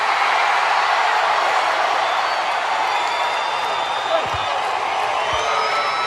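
A WWE Raw arena crowd on July 4, 2005 cheers in a loud, continuous roar with whoops and shouts, sustained throughout with no break.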